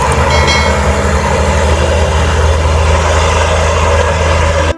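A toy cement mixer truck gives off a loud, steady mechanical drone with a low motor rumble, continuous and close, with no speech.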